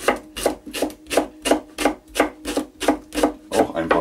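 A knife chops leek into small strips on a board for a crockpot minestrone, making about a dozen crisp, evenly spaced cuts at a brisk, steady rhythm. The chopping is close and there is no talking.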